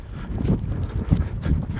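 Rhythmic hoofbeats of a horse at a gallop, three heavy thumps in a rolling cadence, close by with no voices.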